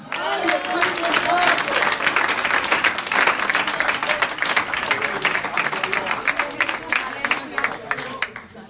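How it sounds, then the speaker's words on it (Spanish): Sustained applause from a church audience at an evangelistic service, dense and steady for the full length with a crowd murmur and voices mixed in. "Un aplauso a papá."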